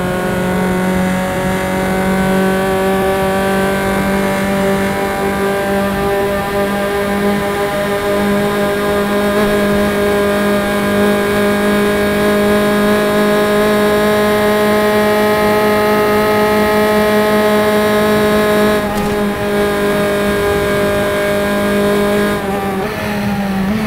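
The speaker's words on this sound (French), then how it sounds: "Laisser vivre le vrombissement de ce moteur en direct" A race car engine in the racing video game RaceRoom roars loudly and continuously, holding a high steady pitch with slight rises and dips, no talking.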